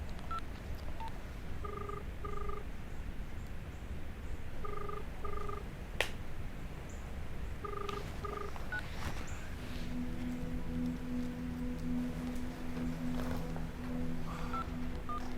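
Phone keypad tones while someone dials a call: short paired beeps in small clusters with pauses between, followed by a steady ringback tone, faint over a quiet room background with no talk.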